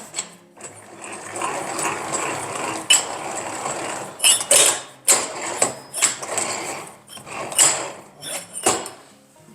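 An inclined 14-inch twin turbo workbench vise with a built-in two-speed transmission is cranked through its gears, giving close, uneven ratcheting whirs and clicks in bursts over about ten seconds.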